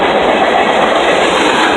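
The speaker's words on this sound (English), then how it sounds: "Adios, train." A Union Pacific freight train hauling lumber cars rolls steadily past close by, a loud continuous roar of wheels and rail rumble with no break.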